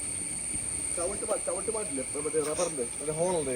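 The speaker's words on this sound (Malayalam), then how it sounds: "ആ ചീവിടിൻ്റെ സൗണ്ട് കേട്ടോ" A continuous, high-pitched insect trill, likely a cricket or cicada, carries through the whole stretch outdoors at a loading site, while someone talks over it.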